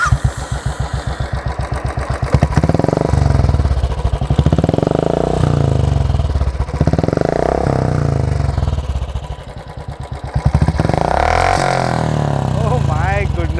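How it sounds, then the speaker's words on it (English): A Royal Enfield Classic 350 with an aftermarket exhaust thumps loudly and steadily at idle, with a few throttle blips. It is close and dominant throughout, with a brief dip in loudness near the end. "This is a loud motorcycle thanks to the aftermarket exhaust."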